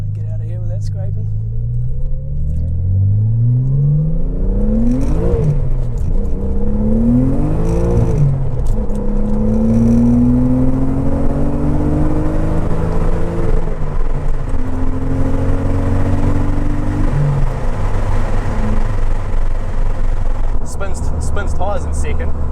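Short-wheelbase two-seat Nissan 300ZX sports car accelerating hard and spinning its tyres in second gear, loud rising engine sweeps climbing through gear changes, heard from inside the car over a constant road rumble.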